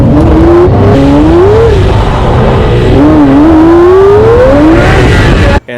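A car engine revs hard and rises through the gears on a quick run, loud and close, with pitch sweeping up and dropping between shifts before cutting off abruptly at the end.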